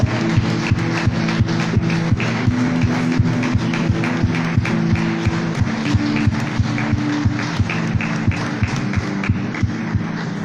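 A church congregation claps loudly in a steady, even rhythm, many hands striking together on each beat, over sustained background music throughout.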